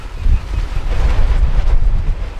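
Gusting wind buffets the microphone outdoors on a rural property in Garanhuns as rain approaches, a steady low roar with surges, no voices.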